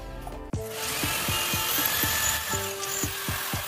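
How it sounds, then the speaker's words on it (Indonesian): An electric drill bores a second hole into a simple workbench for phone repair. The motor whines loudly and steadily, with repeated rising and falling pitch sweeps as the bit bites into the wood, and no voices. "langsung kita bor lagi lubang yang kedua untuk kedudukan di bawah"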